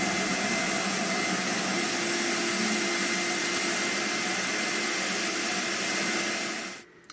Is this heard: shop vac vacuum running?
yes